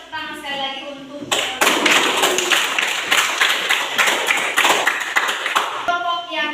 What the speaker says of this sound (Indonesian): Silakan kembali, tepuk tangan sekali lagi untuk